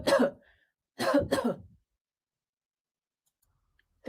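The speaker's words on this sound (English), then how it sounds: "you'll record your cough, either spontaneously if you feel the need to cough, or you can force a cough" Three short forced coughs recorded close to a microphone, one alone and then two in quick succession, followed by silence.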